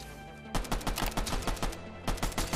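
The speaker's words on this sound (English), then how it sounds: "Pistol only challenge with this pistol, the Ranger pistol." Rapid bursts of Ranger pistol fire in Fortnite, a fast run of sharp shots through the first stretch, a brief pause, then another quick volley, loud and close with no talking.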